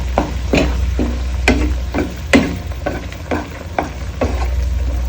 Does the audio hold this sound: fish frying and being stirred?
yes